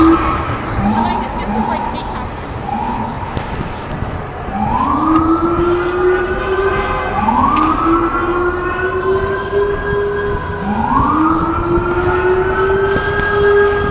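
Fire truck sirens wail in New York City streets, with several rising sweeping tones repeating and overlapping from multiple vehicles, loud and steady over traffic noise.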